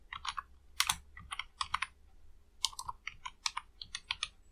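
Quick bursts of close computer keyboard typing as a file name is entered in CorelDRAW, with crisp, irregular keystrokes in short clusters and pauses between them, no talking.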